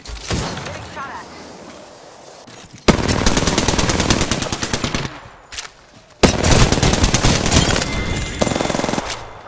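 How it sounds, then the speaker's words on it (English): Gunfire in the video game Apex Legends, with sustained bursts of rapid automatic fire that are loud and close, broken by short pauses, with in-game voice lines in the background. "Getting shot at."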